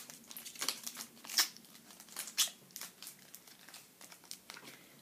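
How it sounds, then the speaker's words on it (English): Sticky tape is crinkled and pressed around a folded paper Halloween bookmark, giving faint, close rustling and crackling with a few sharper snaps. "Grab some sticky tape. And sticky tape it around."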